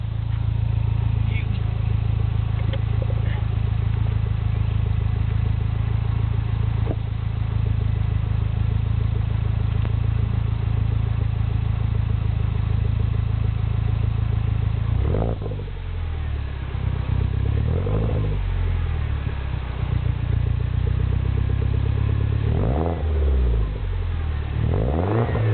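MINI Clubman S with a Magniflow cat-back exhaust and small turbo engine, idling with a steady low drone after a cold start, then several sharp revs rising and falling near the end.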